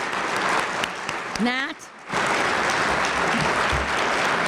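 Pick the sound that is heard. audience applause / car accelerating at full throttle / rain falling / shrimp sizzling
audience applause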